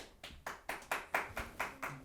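Faint, evenly spaced claps, about eight sharp slaps in two seconds, come from a small group in an audience setting, heard alone at a distance.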